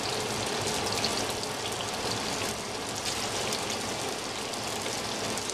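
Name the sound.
panzerotti frying in hot oil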